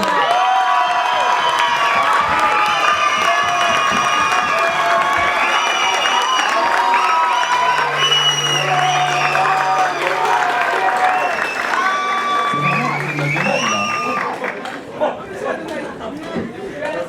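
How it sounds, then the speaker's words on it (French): An audience at an eloquence contest final bursts into sustained applause and cheering, dense clapping mixed with crowd chatter, shouts and children's voices that gradually thin toward the end. "un tonnerre d'applaudissements pour notre ami Adonis."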